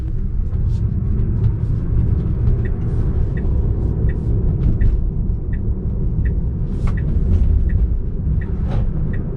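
A Porsche 911 converted to a Tesla electric drivetrain accelerates from a start with a steady, loud low rumble of road and cabin noise and faint high whine, no engine roar.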